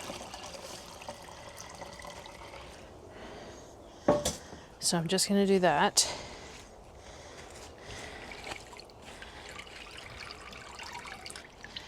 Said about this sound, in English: I'm going to pour some into here, but I just don't think that it's big enough container to pour it all.